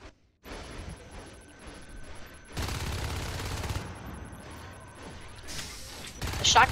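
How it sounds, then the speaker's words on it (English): Shotguns firing during a competitive Natural Selection 2 match, a dense volley of blasts and mechanical clatter that swells louder midway and again near the end, heard without speech. "The shotguns are already started"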